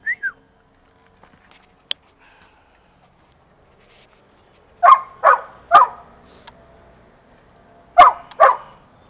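A dog on a Paris film set barks on command, giving two short barks, a pause, then three more and a final pair, loud and close, with a brief whistle at the start and quiet background otherwise.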